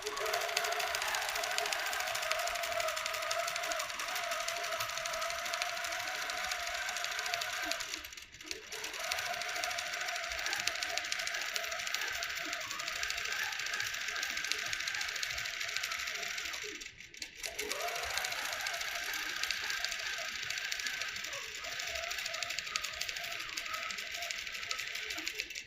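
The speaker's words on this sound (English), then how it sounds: "And now it's going to stitch that design that we placed within those markings." A QCT6 Plus quilting machine stitches a quilting design with a steady, rapid mechanical whirring and clatter that carries on almost without a break, pausing briefly twice before starting up again, close and continuous.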